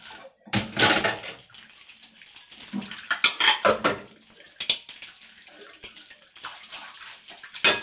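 An object with a lid sits soaking in a basin of water to loosen the lid. Close, intermittent sloshing and splashing bursts come and go, with quieter gaps between them and no talking.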